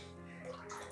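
Tap water running onto a 30mm synthetic shaving brush knot to wet it, a steady hissing stream with a faint hum underneath, brief and close.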